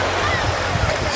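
Surf rolling into the clear-water bay at Agia Pelagia, Crete: a steady, close broadband wash of waves mixed with wind buffeting the microphone, continuous and fairly loud throughout.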